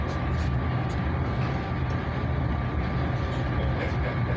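Commuter train, a Silverliner-type electric multiple unit, riding the rails near Metro Park Station with a steady, loud broadband rumble and wheel noise throughout, no talking.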